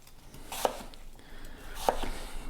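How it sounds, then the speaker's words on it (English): A knife rough-chops red onion and tomato on a board for homemade salsa, with two sharp, distinct cuts about a second apart over low kitchen background noise. "And again, just rough chopping."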